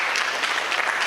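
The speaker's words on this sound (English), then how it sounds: "A better round of applause," Audience applause following a talk at an international healthcare conference, a brief burst of steady crowd clapping, fairly even and moderately loud.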